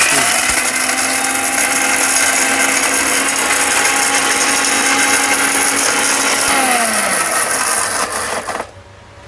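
A powerful electric kitchen blender grinding cinnamon runs at a loud, steady whine for about eight seconds, its pitch dropping slightly near the end before it cuts off abruptly into silence.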